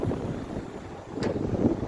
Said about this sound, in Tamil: காற்று கேஸை எரியவே விடாம இருக்கு